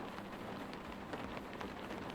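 Rain in a video game patters steadily for a couple of seconds, a soft, even hiss of drops at moderate loudness with no talk.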